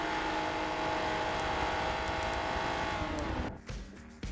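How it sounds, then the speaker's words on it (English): Renault Clio V6 Cup race cars in a sim racing game at Watkins Glen, running three wide with a dense, continuous engine drone and high whine that cuts off abruptly near the end. "There's a clutch of cars going 3 wide."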